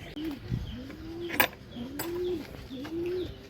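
Domestic desi pigeons cooing in a loft, with three repeated low rising coos at a moderate distance and a brief clatter in between.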